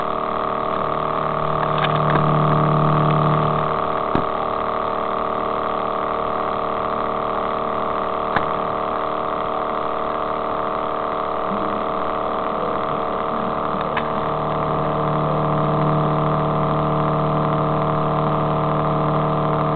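A Bedini motor fitted with a satellite compass spins steadily and gives off a constant layered electrical hum. The hum swells gently now and then, and a few sharp isolated clicks break through. No voices are heard.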